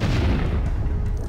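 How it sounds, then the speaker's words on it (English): A big explosion in the video game Lego City Undercover booms out as a deep, loud, rumbling blast that fills the whole short moment and slowly fades, with no voices over it. "I got big explosion!"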